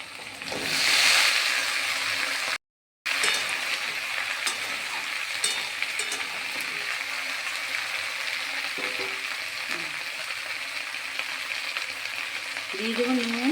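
Okra fries in hot oil alongside onions and potatoes, giving a steady close sizzle with occasional stirring scrapes and a short break early on.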